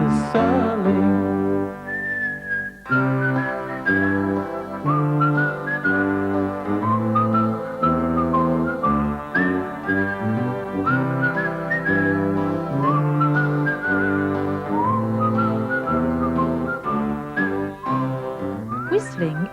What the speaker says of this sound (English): You make another noise called whistling.